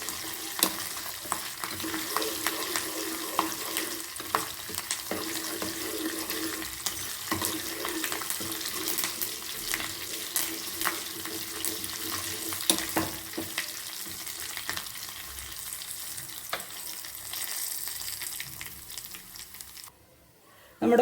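Hot tempering poured into mango pulissery, a yogurt-based Kerala curry, gives a steady close sizzle and frying crackle that runs for about twenty seconds before stopping abruptly.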